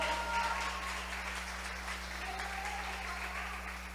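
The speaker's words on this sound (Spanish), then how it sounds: "Yo creo que alguien debería estar dándole un aplauso al Señor a causa de su gran amor" A church congregation applauds in praise during a sermon, a steady wash of clapping that holds evenly for several seconds, with a low steady hum running beneath.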